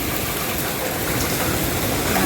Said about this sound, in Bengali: অনেক জোরে সোরে বৃষ্টি, মুষলধারে বৃষ্টি যেটাকে বলে